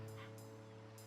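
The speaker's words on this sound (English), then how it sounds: "sorry for the dog barking in the background" A dog barks and yips faintly in the background, a few short distant bursts under steady electronic tones.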